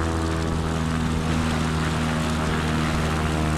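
A steady, loud propeller engine drone fills the air as an airplane lowers its gear to land on a runway, a constant hum layered with a broad rushing wash and no voices.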